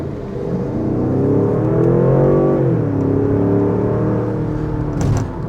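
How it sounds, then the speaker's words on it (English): A 2025 Range Rover Sport Dynamic SE P530 revs hard, its engine rising and falling in a loud, steady exhaust roar that sweeps up and settles over several seconds, close and with no talking. "Can't help but step on the loud pedal there and give you a good exhaust note"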